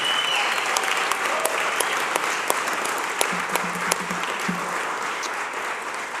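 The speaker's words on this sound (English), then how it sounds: "let's give a huge round of applause to all the folks who are joining us here today" Audience applause at a Philadelphia event honoring employers of national service, a steady roar of many hands clapping throughout, loud and sustained with brief low tones beneath.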